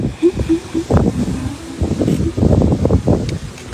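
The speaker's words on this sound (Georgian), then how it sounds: "აი ქარია, აი მაგარი ქარია." Strong gusts of wind buffet a microphone outdoors in a schoolyard, rumbling in uneven low bursts close to the mic, with no talk over it.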